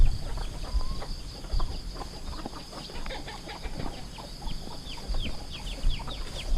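Chickens and cockerels cluck and chatter in a busy farmyard, with scattered soft calls and short squawks over steady outdoor background noise.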